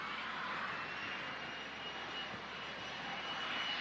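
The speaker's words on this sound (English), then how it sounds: "You can just hear actually the PC-24." Distant Pilatus PC-24 business jet engine roar at Manchester Airport in strong winds, a steady broadband rush with a faint high whine, continuous and fairly quiet with no voices.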